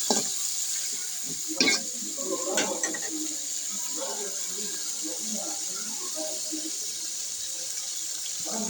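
Cut potatoes sizzling in a pan with fish head and oil as they are stirred, a soft crackling fry with a few louder scraping clatters early on, close by.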